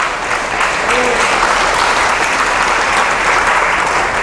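A church congregation in Colombia claps in a loud, even burst of applause for a few seconds, many hands together forming a steady dense roar close by.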